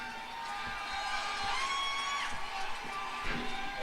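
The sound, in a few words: race fans cheering for Kevin Harvick at Bristol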